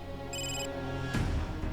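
A telephone rings indoors with a short electronic ringing tone, one brief burst that stops and gives way to a duller thump, fairly quiet and with no voices.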